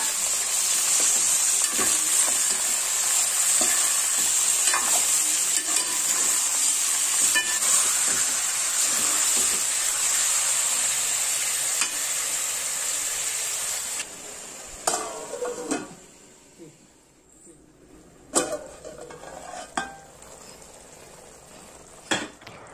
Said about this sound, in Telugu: ఇప్పుడు చికెన్ వేసి కలుపుకొని 5 నిమిషాల పాటు మూత పెట్టి ఉడికించండి.